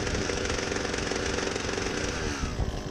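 Electric clippers with sticky, poorly greased blades that move slowly drone in a steady, loud, buzzy motor hum close to the mic, unbroken throughout.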